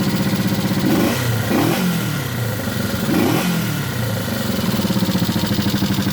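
A Honda CB350 motorcycle engine runs close by with a light pecking noise, chugging with a steady pulsing beat and two brief revs partway through before settling back to idle.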